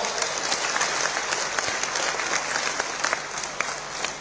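Loud, dense applause from a large crowd welcoming the chief minister at a public political event, continuous clapping with sharp individual claps standing out, no talk over it.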